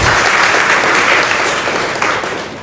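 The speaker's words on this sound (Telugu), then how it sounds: "ఒకసారి గట్టిగా చప్పట్లు కొడదామా" A church congregation breaks into loud, sustained applause, dense steady clapping from many hands that carries on without pause.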